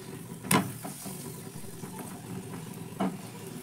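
Paratha fries in oil in a pan with a soft, steady sizzle, broken by two brief scraping clatters from turning it.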